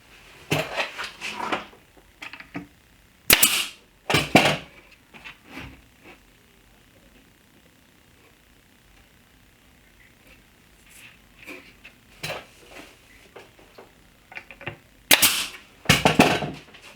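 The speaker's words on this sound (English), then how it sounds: "Now I'm going to brad nail these in place just so they hold in place" A brad nailer fires nails to fasten a butcher block top in place during a kitchen island build, sharp close snaps in uneven pairs and clusters separated by quiet pauses.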